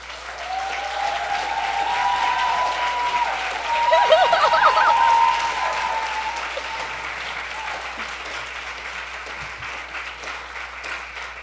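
Audience at the 2016 Technovation World Pitch award ceremony applauds team members called to the stage, sustained crowd clapping that swells in the middle with cheering and whoops, then settles into steadier clapping.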